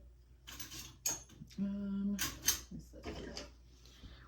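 Sourdough starter is stirred in a container, giving scraping and clinking of a utensil against the sides in short irregular bursts, with a brief tonal squeak in the middle.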